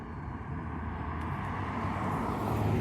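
A tiny UMX F4F Wildcat RC warbird on 2S power flies overhead, producing a steady, broad motor-and-propeller drone that builds slightly louder toward the end, heard alone.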